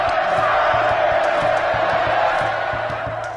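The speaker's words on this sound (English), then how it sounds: "a crowd of onlookers cheers wildly" A crowd of onlookers at an Aztec sacrifice cheers wildly, like a scene from the film Apocalypto: a dense, loud, continuous roar of voices over a steady rhythmic low pounding that fades slightly at the end.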